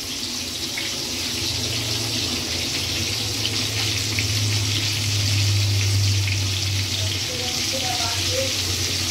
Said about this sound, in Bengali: এই তেলের মধ্যে এবার সেদ্ধ আলুগুলো দিয়ে পরিমাণ মতো নুন